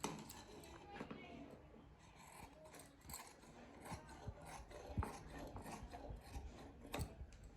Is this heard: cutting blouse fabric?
yes